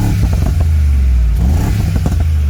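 Side-pipe exhaust on a 2019 Mercedes-Benz G63 AMG SUV revving loudly up close, with a deep rumbling idle broken by several sharp throttle blips and crackles, then one longer rising rev.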